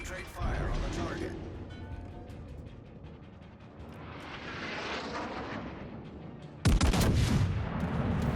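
Warship guns fire in the naval battle game World of Warships Legends, with a booming salvo at the start and another heavy, loud volley near the end over rumbling engine and water noise.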